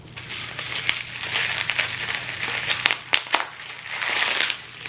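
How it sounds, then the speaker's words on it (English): Bubble wrap is peeled off a candle tin from a subscription box, giving a close, continuous crinkling and crackling with sharper pops and rustles throughout, no voice. "And it does come all nice and bubble wrapped"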